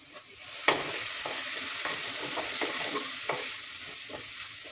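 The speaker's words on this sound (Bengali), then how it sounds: "মশলাটা ভালো করে কষিয়ে নেব।" Ground spice paste with egg, salt and turmeric frying in a little oil in a pan, a steady sizzle with repeated scraping strokes of a spoon stirring it, close and alone.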